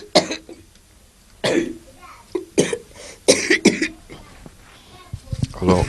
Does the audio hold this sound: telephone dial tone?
no